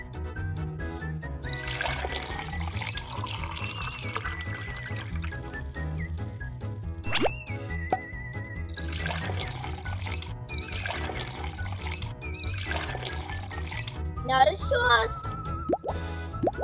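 Water poured for a lemonade stand, several bursts of splashing and trickling, some close and bright, with music playing and talk running underneath.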